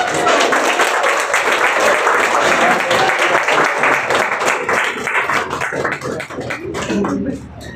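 An audience in Khunti, Jharkhand, claps to welcome CISF member Tulsi Munda, a loud, close, rhythmic burst of many hands lasting several seconds before thinning toward the end, with some voices mixed in.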